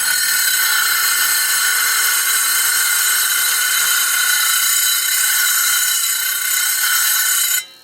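A loud, steady high-pitched whine of a small power saw grinding continuously through stone, stopping abruptly at the end.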